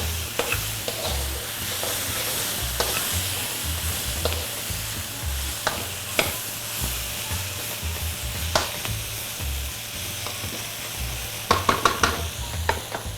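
Vegetable lo mein stir-frying in a wok, a steady loud sizzle with scattered clinks and scrapes of a utensil against the pan throughout, no voices.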